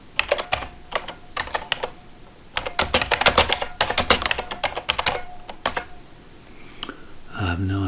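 Rapid keystrokes on a computer keyboard entering a movie title, in close, crisp bursts of clicks with short pauses, ending with a brief low murmur of a voice.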